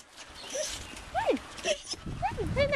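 Dogs whimper and whine at feeding time indoors, a series of short rising and falling squeals scattered across the moment, fairly close, with soft rustling and background noise underneath.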